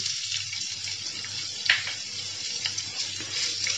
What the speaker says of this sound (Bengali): এখন পেঁয়াজগুলো নরম হয়ে আসা পর্যন্ত একটু ভেজে নিব।